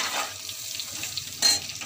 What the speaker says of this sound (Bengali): তো এবারে আমি মশলাটা কষছি।